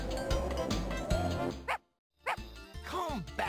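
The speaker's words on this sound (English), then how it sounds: "Come back here, you stupid dog." A dog yips and barks in a PlayStation 1 game, several short bright barks and whimpers mixed with game music and a voice talking, broken by a brief silence.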